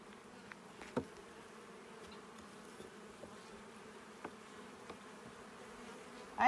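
Honey bees in a bee yard hum as a steady, soft buzzing swarm, with a few faint knocks and clicks scattered through it.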